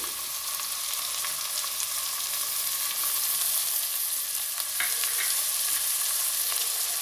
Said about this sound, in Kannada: ಆ ಮೆಂತ್ಯ ಸೊಪ್ಪು ಹಾಕೋತಾ ಇದ್ದೀನಿ